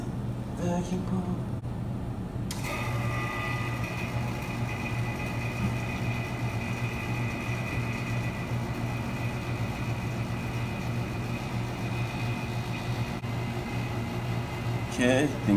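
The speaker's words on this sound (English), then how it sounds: "And then we'll turn on the vacuum pump." A vacuum pump on a lab setup for sulfur ionization runs with a loud, steady mechanical drone and a low hum that barely changes over the whole stretch, close by.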